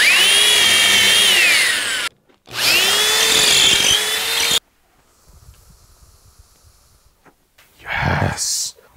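A die grinder boring through a bioluminescent fungus lamp, two loud whining bursts with a wavering pitch, then a quieter stretch and a short final burst, with some vocal sound in between.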